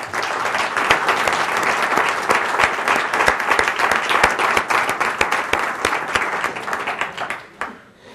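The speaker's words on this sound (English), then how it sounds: "You might want to applaud them again after you hear what they've done in just such short order" A large audience gives the land bank staff sustained, loud applause at a public meeting. The clapping stays dense and even for several seconds, then fades quickly to quiet.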